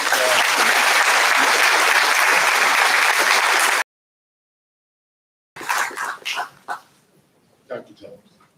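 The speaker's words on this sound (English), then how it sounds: "Please join me once again in a round of applause for Dr. Harris." At a community college commencement ceremony, a crowd gives dense, loud sustained applause for several seconds, which cuts off abruptly, followed by a brief silence and then a few scattered sounds that may be speech.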